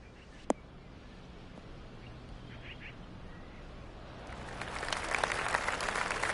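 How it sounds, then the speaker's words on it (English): A single sharp knock, then quiet, then a patter of polite golf-clap applause in the video game PGA 2K23 rising toward the end, moderate in volume with no talking. "Oh, golf clap."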